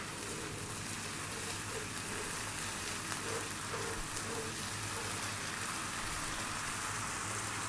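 A 50-50 garlic and ginger paste hits a hot pan for lamb shank masala, giving a steady, even sizzling hiss that holds throughout without breaks or voices.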